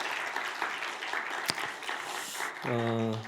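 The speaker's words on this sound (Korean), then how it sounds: "그래서 우리 청년들 다시 한번 크게 박수 한번 하십시다." Church congregation applauding its youth group after a sermon point, a steady wash of clapping with a sharp single clap near the middle, giving way to a sustained tonal hum near the end.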